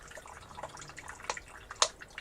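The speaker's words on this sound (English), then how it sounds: "I'm going to pour the rest of this in here" Liquid is poured into a container at close range, with small drips and splashes and a couple of sharper spatters over a soft background.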